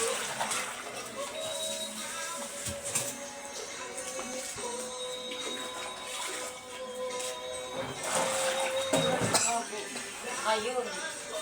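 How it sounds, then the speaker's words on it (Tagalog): Water splashes and sloshes steadily while dishes are washed, poured from a dipper over plates, with clinks of dishware underneath and people talking throughout at close range. "lagyan mo ng tubig dyan"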